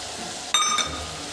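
Chopped tomatoes hit a hot pan and fizz, a brief sizzling burst with a metallic clink as they land, rising over a quiet background hiss for about a second.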